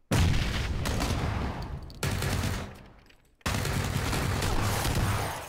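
A grenade blast in PUBG, a dense, loud burst of gunfire-like cracks and booms filling most of the clip, dropping out briefly before a second heavy explosive rush, with no talking.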